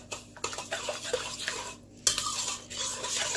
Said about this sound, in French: Je vais bien remuer.